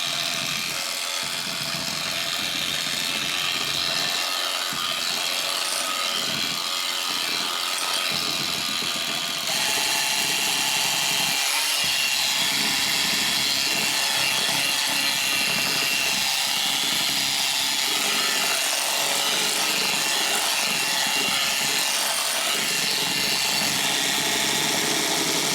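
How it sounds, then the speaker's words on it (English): An electric mixer blends pumpkin spice cupcake batter with a continuous loud motor whir for the whole stretch, its tone shifting slightly partway through, with occasional lower bumps as the beaters move through the bowl. "And then we're just going to blend all these ingredients together. If I can get my mixer over there that far."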